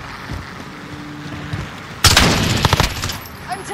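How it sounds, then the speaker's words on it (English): Gunfire in a Call of Duty Modern Warfare match: after a quiet stretch, a sudden loud burst of rapid automatic fire rings out at close range and trails off in scattered shots. "I'm taking rounds!"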